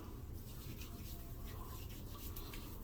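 Palms rub a skin balm together after shaving, a soft, steady, close-up swishing friction that continues without a break for a few seconds, with no voices.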